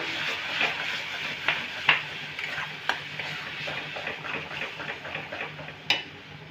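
Whisked yogurt being stir-fried with spice paste in a pan for a jackfruit curry, a steady soft sizzle under scraping spoon strokes with a few sharper clinks against the pan.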